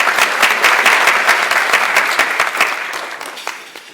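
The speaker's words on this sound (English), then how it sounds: "So it is worth an applause for something like that." A crowd at a chamber of commerce luncheon applauds, dense clapping that starts strong and gradually fades toward the end.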